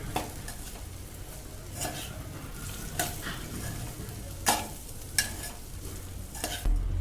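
A spoon scrapes and stirs idli pieces through a sizzling seasoning in a pan, a steady fry hiss broken by several sharp metallic clinks against the pan, close and without talk.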